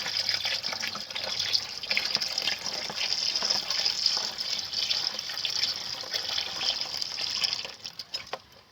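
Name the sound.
water being poured in while stirring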